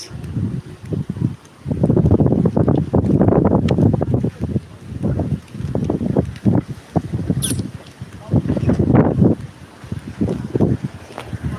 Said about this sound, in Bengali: অনেক বাতাস তেঁতুল গাছ